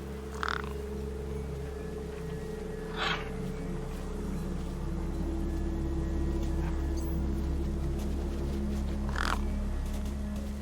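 Gang-gang cockatoos calling in the video game Beyond a Steel Sky, three or four scattered rasping calls spaced seconds apart over a constant low ambient drone.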